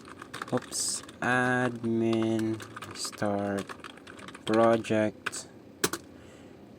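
Scattered clicks of keys being typed on a computer keyboard, heard between and under a person speaking.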